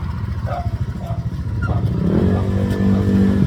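A motorcycle engine idles with a rapid putter, then revs up into a louder, steadier roar, heard close by in an outdoor setting.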